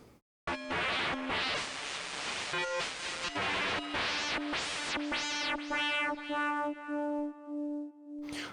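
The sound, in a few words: FM200 synth with scream distortion setting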